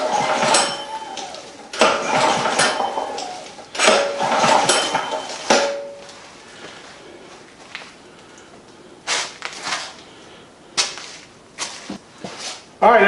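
Several rasping pulls on the recoil starter of a Predator 6500/5500 generator, each a quick scraping burst close by, with pauses and a few lighter clinks between them.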